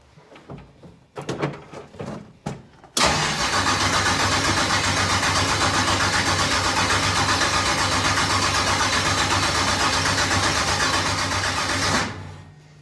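A race car engine first clatters through a few short bursts, then fires up and settles into a loud, steady, rumbling idle for about nine seconds before cutting off.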